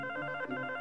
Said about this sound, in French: le téléphone un samedi matin